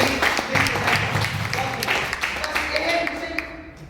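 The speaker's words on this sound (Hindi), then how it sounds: "एक बार जोरदार ताली सर के लिए" An audience at a motivational leadership seminar gives a loud round of clapping for the speaker, sustained and dense at first and then gradually thinning out toward the end.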